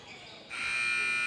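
A half-time buzzer sounds at a basketball game between the Lumberjacks and the Miners. It begins as a faint tone and then swells into a loud, sustained electronic blare that lasts to the end.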